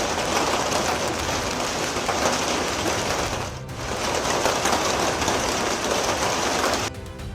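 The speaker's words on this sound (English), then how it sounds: "its windows violently shattered by wind-driven hail the size of baseballs" Baseball-size, wind-driven hail pounding during a severe storm, a loud, dense, continuous rattling roar with a brief dip midway and no voices.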